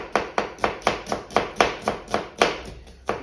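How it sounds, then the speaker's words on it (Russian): A white knife slices an onion into half rings on a cutting board, producing about a dozen crisp, evenly spaced chops in a quick steady rhythm, close and clear. "лук, просто лук, и нарезаем полукольцами"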